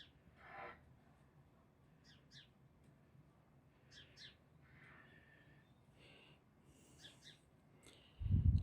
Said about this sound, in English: The sound of garden machinery, bit of traffic, and birdsong